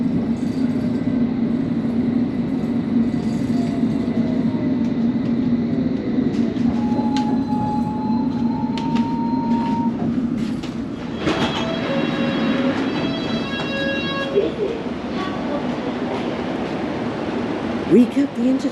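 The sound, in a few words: London Underground train running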